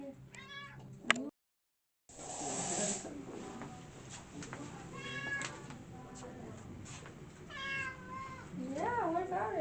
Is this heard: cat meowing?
yes